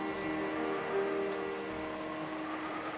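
Steady rain falling in the video game Umineko: When They Cry, a dense even hiss of drops on surfaces with no voices.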